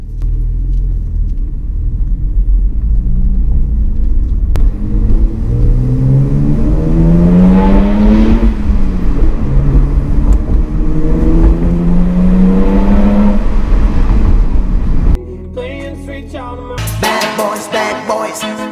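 A BMW 135i E82 biturbo engine pulls hard through several rising gear sweeps on a drive, loud and close, then cuts off abruptly as music begins.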